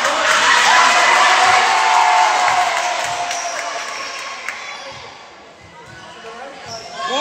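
Fans cheer at a basketball game with a loud, sustained crowd roar. The roar slowly fades and then builds again, with ball bounces thudding beneath it and voices mixed in.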